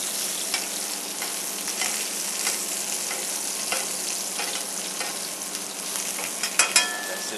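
Chilean sea bass being basted with garlic in a very hot pan, a continuous bright sizzle with spoon clinks and spattering pops, louder bursts near the end.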